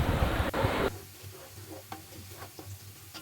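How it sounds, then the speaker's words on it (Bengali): Whole spices—cinnamon, cardamom and cloves—dropped into hot oil for dum biryani give a loud broadband sizzle for the first second, then the frying quiets to a soft crackle with a few scattered ticks and spatters. "দারচিনি, এলাচ, দিয়ে দিচ্ছি কয়েকটা লং। তো এবার এগুলোকে একসাথে কিছুক্ষণ আমরা ভেজে নিব।"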